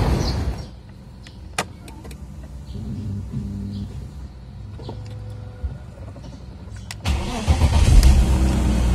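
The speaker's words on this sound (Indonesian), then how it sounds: "Setelah itu kita nyalakan mesinnya" BMW M52 six-cylinder in an E39 523i starts after an oil change: clicks and a short crank, then the engine catches and idles at close range before a louder rev-up toward the end.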